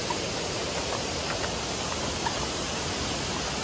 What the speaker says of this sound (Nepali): अब चाहिँ निकै जोरले पानी आयो.